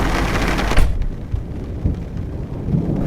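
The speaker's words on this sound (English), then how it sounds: "We should stay in the car until the storm passes. Don't want to get struck by lightning." A storm's thunderclap, heard from inside a car, cracks loudly and cuts off within a second into a lower rumble and rain hiss, with no voices.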